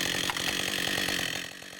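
A chainsaw running during a logging skills training course in the woods, its engine buzzing with a rapid, pulsing rhythm, close and loud, easing off slightly near the end.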